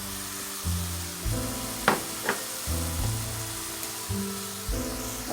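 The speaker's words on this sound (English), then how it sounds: "So now we're going to add in our minced garlic." Minced garlic hits a pan of cooked-down spinach for creamed spinach, sizzling with a couple of sharp clicks of the utensil beneath prominent background music.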